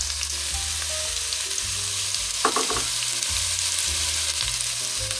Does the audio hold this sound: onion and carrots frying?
yes